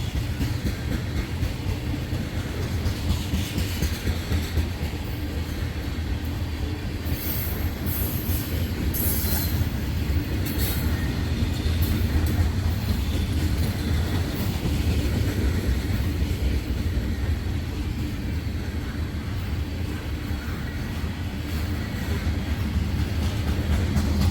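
A freight train with a distributed power unit on the end rolls past nearby, a continuous heavy rumble of railcars with intermittent high wheel squeals and clanking throughout.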